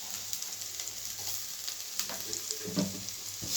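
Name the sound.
carrot, onion and green chilli frying in a pan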